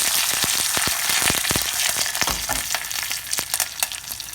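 Curry leaves sizzle and crackle loudly in hot oil over low-medium heat for coconut chutney, with sharp spitting pops scattered through a steady frying hiss, close up and without voices.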